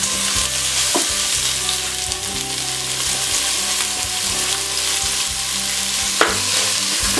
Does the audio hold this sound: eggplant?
yes